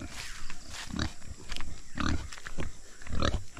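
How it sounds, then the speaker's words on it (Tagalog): A large pig grunts in a series of close, rhythmic, throaty bursts, repeating about every half second to a second, with no talk over it. "Malaki yung baboy."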